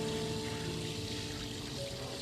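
Cool water pours and splashes steadily as tired feet soak in a basin on a hot day, a continuous close trickle with no talking.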